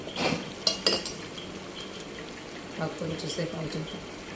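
Tamarind rice (pulihora) is mixed by hand in a cooking vessel, with a few sharp utensil clinks early on and then a soft run of scraping, stirring sounds.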